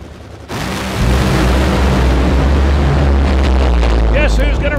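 A pair of Top Fuel Funny Car Mustangs at a drag race semi-final stage and launch, their nitro engines bursting into a loud, sustained roar that swamps everything, with an announcer's voice faintly over it.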